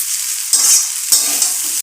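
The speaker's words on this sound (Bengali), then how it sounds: "শীতের সবজি গাজর, ফুলকপি, আলু দিয়ে আমি ম্যাগিটা ভাজা করছি।" Maggi noodles frying in a pan with carrot, cauliflower and potato, a steady close hiss with stirring scrapes and two brief swells, ending in a sharp utensil click; no talk.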